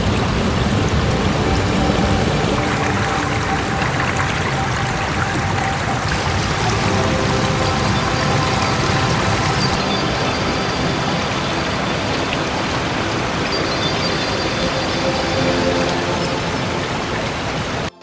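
Garden Creek Falls, a waterfall in New Brunswick, produces a loud continuous roar of rushing, splashing water that stays steady throughout with no voices.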